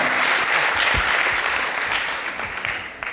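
An audience at an award event claps to welcome guests, a thick burst of many hands that holds steady and then gradually thins out and softens toward the end.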